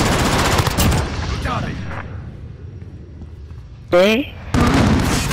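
Gunfire from the Call of Duty: Modern Warfare video game. Loud, rapid automatic bursts ring out near at the start, fade out, and return after a brief shout near the end.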